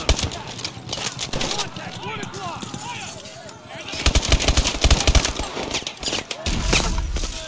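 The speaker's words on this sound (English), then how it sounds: "They're using MMGs!" Medium machine gun fire in a realistic military shooter, dense sustained bursts of loud automatic shots mixed with battle noise, while voices shout over the gunfire.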